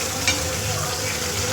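Paneer and fresh green peas sizzle as they go into a hot pan, a short close crackle with one brief stir or tap.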